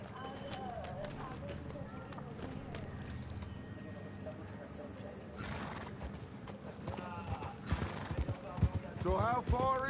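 Horse hooves clip-clop along in Red Dead Redemption 2 with an occasional whinny. The hoofbeats get louder and busier toward the end, and people talk over them most of the time.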